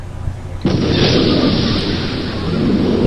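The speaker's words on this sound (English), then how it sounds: "Oh, why'd you blow him up? Oh yeah, you just had to blow up the recliner." A video game explosion blows up a recliner, bursting in suddenly after a quiet moment and leaving a loud, sustained roar and rumble that fills the rest of the clip.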